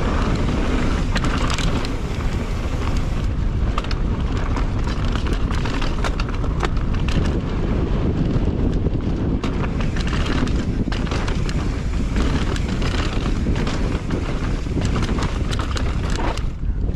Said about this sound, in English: Directly into a headwind, not fun.